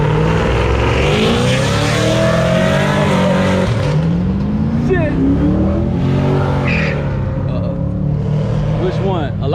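At a car show and meet, a loud cammed car engine revs and surges nearby in rising and falling pulls, with people talking over it throughout.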